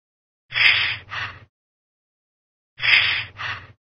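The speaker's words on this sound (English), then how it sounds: "Take deep breaths, Blue." Cartoon dog taking deep breaths in a Blue's Clues checkup video game, two close, clear breath cycles, each a sharp inhale followed by a shorter exhale, separated by silence.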